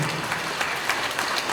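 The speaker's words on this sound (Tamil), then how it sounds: "இந்த கைத்தட்டல் ஒளி" An audience applauds steadily after being asked to stand and raise their hands in tribute, a dense wash of clapping without pause and no voices on top.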